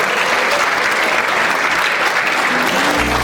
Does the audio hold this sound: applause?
yes